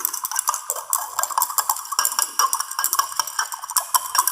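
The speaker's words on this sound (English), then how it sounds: "when you stir, you find that the mixture is mixing." A spoon stirs a sand-and-water mixture in a glass beaker, giving a steady run of bright scraping clinks and rattles, close and fairly loud, with no talking.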